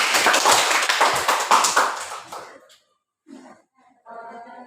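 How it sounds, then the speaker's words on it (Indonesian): A class of students clapping hands together in a classroom, a burst of several loud rhythmic claps that fades out after about two and a half seconds, followed by brief quiet voices. "Tepuk tangan dulu."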